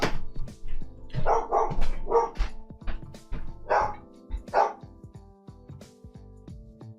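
A pet dog barks indoors in a series of sharp, close barks and yips spread across several seconds, with short pauses and a few thunks in between.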